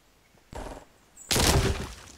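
Two bursts of gunfire in a video game, a short blast then a louder, longer broadband crack, heard alone.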